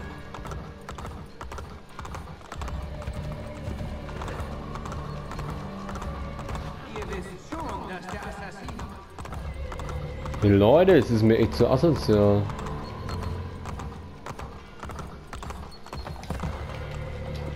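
Horse hooves clip-clop in the Assassin's Creed Ezio Collection game, a steady rhythm running under game audio and someone talking over it throughout, with a louder burst of sound near the middle.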